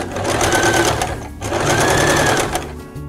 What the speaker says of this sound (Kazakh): Енді айландырып тігіп шығамыз.